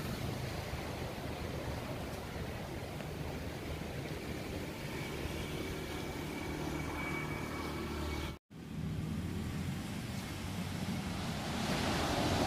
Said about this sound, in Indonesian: Ini pantai nelayan, tempatnya para nelayan mencari ikan.